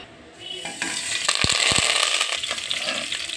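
Sliced onions frying in hot oil with fenugreek, mustard seeds, garlic, dried red chillies and curry leaves for a Telugu onion pulusu tempering, a steady close sizzle broken by a few sharp clinks and stirring knocks.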